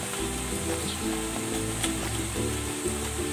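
Sautéed pechay with chicharon sizzles in a pan, a steady close crackle and hiss with a few faint stirring scrapes and no talking.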